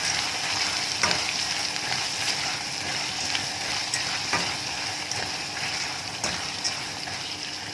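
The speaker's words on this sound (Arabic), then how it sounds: "واشوحها معاها كده بالمنظر، هتديها طعم وريحه تحفه تحفه البصل والثوم" Chopped onion and a little garlic sauté steadily in hot oil in a pan, a close, continuous sizzle broken by a few sharp clicks of stirring, with no one speaking.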